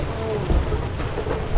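Heavy rain falls outdoors as a loud, continuous wash, with low rumbling swells that fit thunder rolling beneath the downpour. A faint voice may sit in the background.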